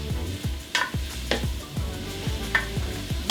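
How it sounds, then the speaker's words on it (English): Onions saute in a pan with a constant soft sizzle, broken by rhythmic scraping stirs about every half second, close and moderately quiet with no voices. "you want to saute your onions until it's translucent"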